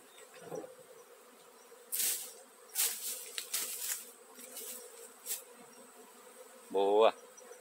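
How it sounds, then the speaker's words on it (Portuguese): Bees from a captured swarm buzz around an opened hive in short, faint, intermittent bursts against a quiet background, with a brief voice near the end. "Feito o manejo na abelha."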